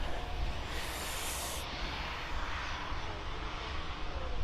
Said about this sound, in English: A lot of Boeing action going on.